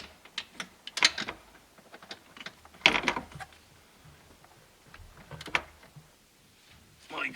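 A ratchet snugs up a steering coupler bolt on a Hyundai or Kia, giving scattered quiet clicks and short ratcheting bursts close by, with some faint knocks in between.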